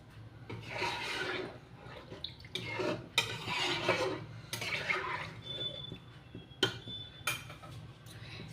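Water is poured into hot oil in a pan while cooking a fasha fish curry with potato and eggplant, giving bursts of sizzling and spattering with light clinks of a utensil against the pan, fairly quiet and close.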